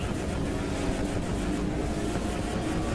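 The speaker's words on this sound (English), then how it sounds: "Listen to the engine." BMW M2 engine in The Crew 2 racing game, a dense, steady roar with broad rushing noise, loud and unbroken throughout.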